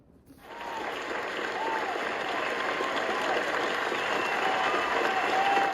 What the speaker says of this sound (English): I'm gonna need a round of applause.